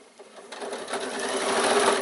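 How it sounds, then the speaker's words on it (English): Sewing machine stitching fabric for a bag, a steady fast mechanical whirr running continuously and close up, growing slightly louder throughout, with no talk. "Now you can sew right down this side all the way to the opposite end."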